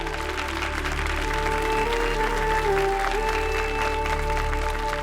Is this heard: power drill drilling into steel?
no